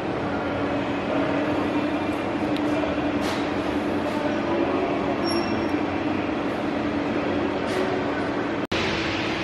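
Noisy interior of a steam locomotive works at the Ribble Steam Railway, a loud continuous mechanical roar with occasional faint clanks, squeals and one sharp bang near the end.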